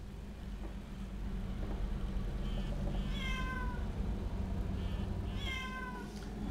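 A cat meows twice in Euro Truck Simulator 2, two clear drawn-out calls a couple of seconds apart over the steady low rumble of an idling truck engine, with no talk.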